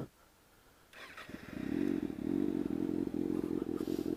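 Motorcycle engine cranking and catching after quiet ambience, then settling into a loud, steady, close-up idle with rapid rhythmic pulsing.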